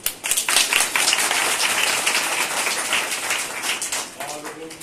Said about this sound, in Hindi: और इन दोनों के तालियां मारे